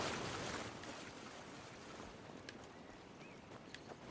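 Broadband water wash in a Skyrim game world, a steady rushing like waves or flowing water, fairly quiet and continuous with faint drips and splashes over it.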